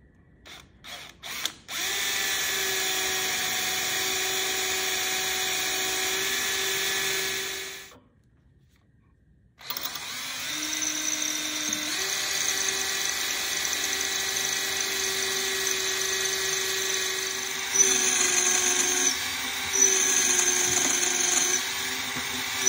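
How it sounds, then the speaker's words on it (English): An electric drill boring into rudder hardware on a small Snark sailboat runs as a steady high whine, stops for a short pause, then starts again and keeps going with a rising load and a few changes in pitch. "Take the drill and see if we can get in there."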